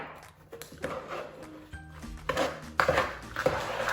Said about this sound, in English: So I give it a good mix, mixing it around